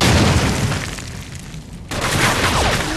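Airstrike bomb explosions in a 4v4 team deathmatch video game, a loud broad booming roar that thins, then a second sharp blast kicks in, close and dominant.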